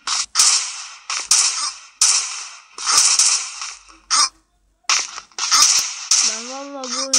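Video game gunfire comes in loud, close bursts of sharp shots, fired in rapid clusters separated by brief pauses.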